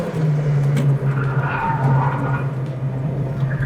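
A car on a race track braking hard into a corner in third gear at about 80 km/h, trail braking with heel-and-toe downshifts: a loud, steady engine drone with tire scrub and skidding noise, close and continuous throughout.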